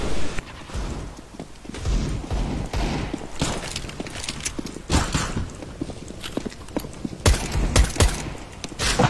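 Rapid automatic AK rifle fire in a video game snowball match, loud bursts of shots and sharp cracks throughout amid busy game noise.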